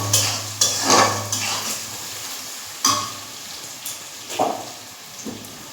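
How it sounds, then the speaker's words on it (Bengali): Onions frying in a home kitchen pan, a soft sizzle broken by several sharp clatters and scrapes of a spatula against the pan, with a low steady hum beneath and no talk. "চাপিয়ে দিয়েছি, পেঁয়াজটা এখন ভাজছি।"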